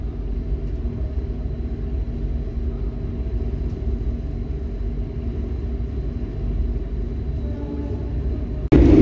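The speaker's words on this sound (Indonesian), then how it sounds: "KA Tegal Bahari 169 diberangkatkan dari stasiun Jatibarang" KA Tegal Bahari passenger train running on Java's northern line after leaving Jatibarang, a steady low rumble of wheels and carriage, moderately quiet and unbroken, ending in a sudden loud burst.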